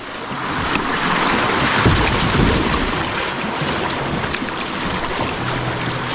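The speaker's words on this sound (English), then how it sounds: "The river's really picking up pace." Fast water rushes around a kayak on the Buffalo River, a loud steady broadband wash mixed with wind buffeting the microphone, continuous and close with no talking.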